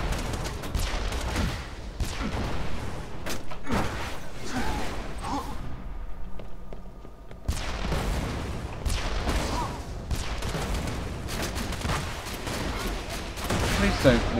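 Gunfire from a weapon in Borderlands 2, with repeated shots and booming bursts mixed with chaotic game noise, loud and close, briefly dropping away midway before firing resumes, with people talking over it.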